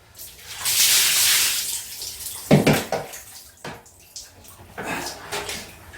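Shower water sprays onto an 8-month-old Jindo dog being bathed in a small bathroom, a loud hissing rush at first, then bursts of splashing and dripping with quieter pauses.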